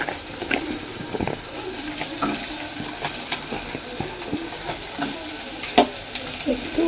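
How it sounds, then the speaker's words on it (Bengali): Washed vegetables sizzling in a little butter in a pan while being stirred for khichuri, steady hiss with irregular close clatters and scrapes of a spoon, no voices. "এই যে দেখো এখানে বাটার দিয়ে দিয়েছি খুব সামান্য, আর এই যে সবজিটা ধোয়াই আছে, জাস্ট সবজিটা দিয়ে দেবো।"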